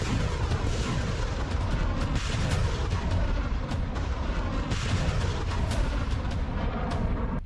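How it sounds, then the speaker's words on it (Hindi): Heavy 152 mm artillery firing amid a smoke-filled battlefield, heard as a dense, continuous rumble of booms and blasts filling the whole stretch, loud and sustained with no speech. "152 mm के ये गोले 25 किलोमीटर तक दुश्मन पर सटीक हमले कर सकता है।"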